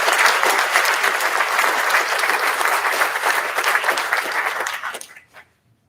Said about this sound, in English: So if we could give Pullman's a round of applause.